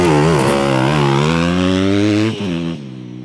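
Yamaha supercross motorcycle engine at a practice track, revving steadily as the clutch is eased out, pitch climbing smoothly then dipping near the end; loud, close and alone with no talk.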